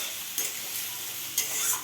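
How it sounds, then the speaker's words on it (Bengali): Close-up sizzle of food frying with two brief scraping stirs of a utensil against the pan; no voices. "এটা আমি বেশ ভালো করে একটু ভাজা ভাজা করবো"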